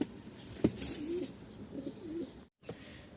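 A pigeon coos softly in a short run of low, rounded notes close by, with a sharp flutter or tap near the start and a brief gap before the end.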